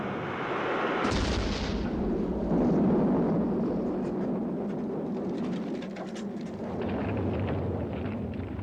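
B-52 bombers dropping bombs on Hanoi during the war, heard as heavy, continuous rumbling blasts that swell and roll on with little break, loud and dense.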